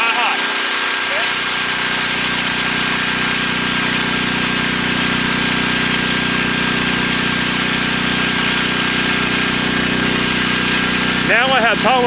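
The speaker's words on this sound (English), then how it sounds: "now that you see that the generator is going" A portable generator engine drones steadily and fairly loud throughout, back-feeding power into a house, while a person talks over it.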